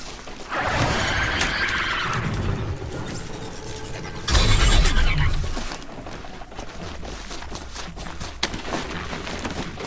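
In Horizon Zero Dawn, a horse-like machine creature neighs with a loud, drawn-out whinny, followed by a heavier burst and scattered clanking game sounds.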